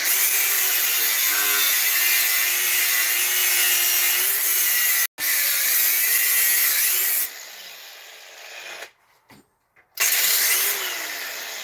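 A cordless battery grinder works on a blower impeller in a repair shop, running as a loud continuous whine that cuts out briefly, drops away, then spins back up.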